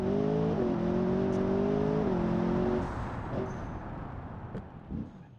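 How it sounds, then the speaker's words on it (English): A V8 engine in a luxury grand tourer revving in BeamNG.drive, loud rising and falling engine tones for about three seconds, then a quieter rumble and fading whir. "I really like the way that V8 sounds once you kind of rev it up a little bit."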